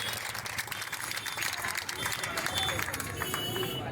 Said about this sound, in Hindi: दोनों टीमों के लिए और उनके डायरेक्टर्स के लिए एक बार ज़ोरदार तालियां अगर आप बजा देते हैं।